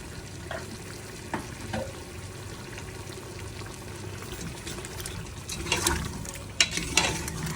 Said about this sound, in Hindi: इसको 2 मिनट अच्छे से मिक्स करके भून के